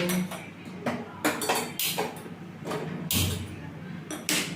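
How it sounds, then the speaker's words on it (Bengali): A metal wok of hot water is set on a stove amid a run of sharp clanks and scrapes of pots and utensils, close and fairly loud, with a voice talking intermittently throughout. "এখানে আমি কড়াতে গরম জল বসিয়েছি"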